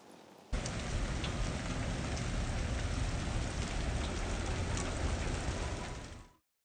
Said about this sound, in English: It's starting to like hail or rain.